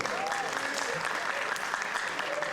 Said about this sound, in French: On applaudit très fort pour l'orchestre.